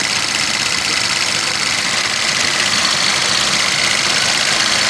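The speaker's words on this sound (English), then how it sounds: "AC compressor kicked on while it was still low" A Chevy Cruze engine runs with its AC compressor engaged while the system is low on refrigerant, giving a steady, close, loud mechanical hum and whir with no pause throughout.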